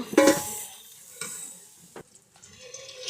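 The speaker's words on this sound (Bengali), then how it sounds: "এবার মশলাটা আমরা ভালোভাবে কষিয়ে নিব" Spice masala with salt and milk being fried and stirred in a pan for chicken polao, a few short scraping stirs and soft sizzles, close and brief with quiet gaps between.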